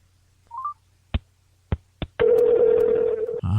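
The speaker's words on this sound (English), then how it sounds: "give old Morgan Ashley here a call" A telephone call being placed: a short electronic beep, then three sharp isolated clicks, followed by a loud, steady line tone that holds for over a second before cutting off. No one speaks.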